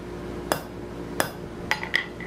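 A hot rivet is hammered down in a third hand at a forge: four sharp metallic strikes spaced irregularly over about two seconds, with ringing clinks on the last two and no talking.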